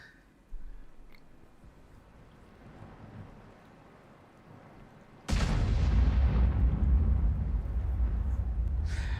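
After a quiet stretch, a tank gun in the video game World of Tanks fires once with a sudden, loud blast, followed by a heavy rumbling roar that lingers and slowly fades.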